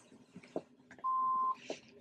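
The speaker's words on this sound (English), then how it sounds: "Leave me a message after the beep." A single steady electronic answering machine beep, about half a second long, sounds clearly over faint background noise.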